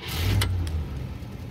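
A Cadillac convertible's engine idles just after a cold start on a warm day, its poorly muffled exhaust giving a steady low rumble, fairly close and loud with no talk over it.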